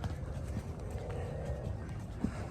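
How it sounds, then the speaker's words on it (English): A horse's hooves clop at a steady walk, faint and a little distant, a few soft rhythmic knocks under quiet outdoor background noise. "Beautiful horse you got here."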